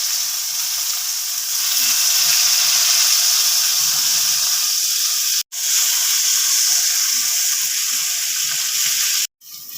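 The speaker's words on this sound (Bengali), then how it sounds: "আমি ওই তেলেই নুন মেখে রাখা বেগুনটা দিয়ে দিচ্ছি" Salted eggplant frying in hot oil left over from frying lentil dumplings gives a loud, steady, close sizzle that cuts out briefly twice.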